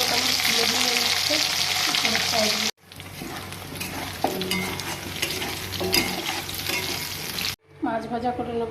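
Pointed gourd (potol) coated in salt and turmeric, frying in hot oil, with a steady close sizzle broken by bursts of stirring and scraping in the pan.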